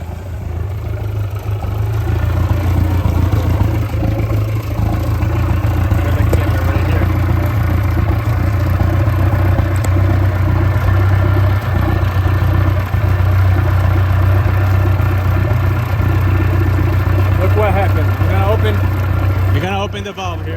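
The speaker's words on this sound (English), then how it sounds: "with the engine running" A boat outboard motor idles steadily and loudly up close with a low droning hum for the whole stretch, and a voice speaks briefly near the end.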